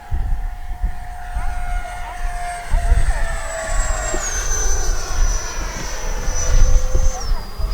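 An FMS Futura V3 80mm RC jet makes a full-speed pass down the runway: a loud, whining ducted-fan turbine with a strong rushing roar whose pitch drops as it goes by, close and continuous.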